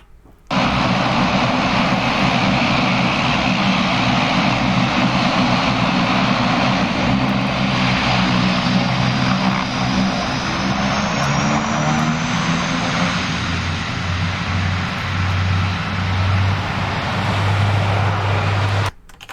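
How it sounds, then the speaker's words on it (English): Dash 8 turboprop airliner on its takeoff roll, a loud steady propeller and engine roar with a low droning hum that rises in pitch and builds toward the end, heard alone without talk. "We're going to watch a 10-second snippet of a normal Dash 8 takeoff so you can see what those spoilers look like."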